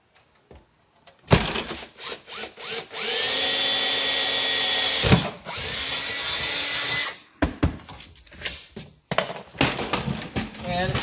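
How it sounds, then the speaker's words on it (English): A power drill boring a hole dead center in a creeper, several short revving bursts followed by a long steady whine, then more brief trigger pulses, loud and close. "And then we drill 1 hole dead center in this thing."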